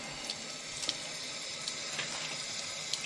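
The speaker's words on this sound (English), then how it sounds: "You ever have it where you fill your sink up" A bathroom or kitchen sink fills from a running tap, a steady close rush of water with faint splashy bubbling throughout and no voices.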